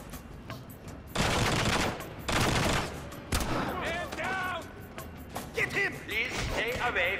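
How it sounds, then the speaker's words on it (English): Video game gunfire from The Bourne Conspiracy, with several loud bursts of rapid automatic fire separated by short gaps and mixed with game voices and effects. "Gunfire."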